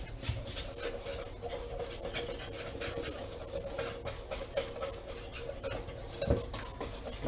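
A whisk beats apple pie ingredients in a bowl, giving a steady, rapid metallic scraping and clinking close up with no talking.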